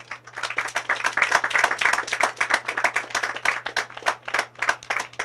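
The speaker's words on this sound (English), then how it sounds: "they deserve a round of applause." An audience applauds agriculture department staff at the commissioning of an aquaponics system, a sustained round of many hands clapping in an uneven rhythm that swells and fades, with a low steady hum underneath.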